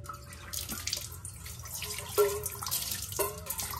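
Tap water runs and splashes into a sink at home, a close, uneven watery rush with a few sharper knocks and clatters of vessels partway through.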